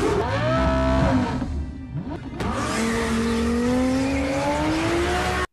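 A car engine from a Fast and Furious film roars loudly with rising revs and a whine, dips briefly, then surges again into a sustained high-pitched acceleration, no talk.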